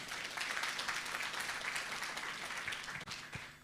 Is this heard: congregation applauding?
yes